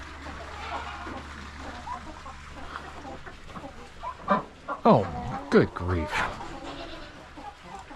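Chickens and a rooster on a farm at bedtime give scattered clucks and short calls, a few louder close squawks bunched near the middle, with a person talking briefly over the birds.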